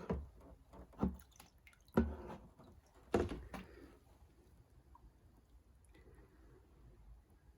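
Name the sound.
pouring diesel into VW Jetta TDI fuel filter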